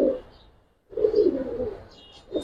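Giribaz pigeons coo in two or three low, throaty bursts with a short silent gap between them, close by and fairly loud, with a faint higher chirp in the background.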